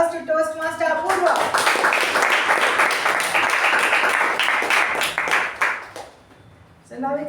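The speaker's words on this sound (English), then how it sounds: "A big round of applause to Toastmaster Apoorva." Applause for a speaker at a Toastmasters club meeting: a sustained burst of clapping from a small group, steady and fairly loud for about five seconds, then fading out before a voice resumes at the end.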